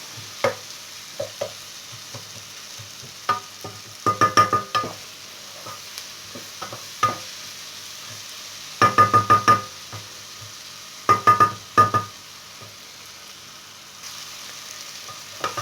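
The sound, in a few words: bell peppers and onions sautéing in a pan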